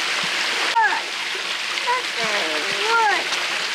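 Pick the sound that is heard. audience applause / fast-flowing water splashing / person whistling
fast-flowing water splashing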